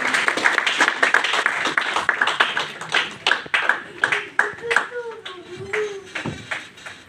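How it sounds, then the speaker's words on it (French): A church congregation claps and applauds together in a dense, fairly close burst of hand claps that stays strong, with a voice speaking over the applause in the latter half. "on peut l'encourager avec les applaudissements."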